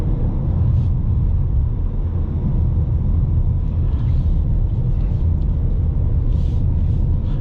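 A 2021 Ford Mustang with the 2.3-liter engine and six-speed manual drives along, its steady low engine drone and road rumble filling the cabin, with no voices.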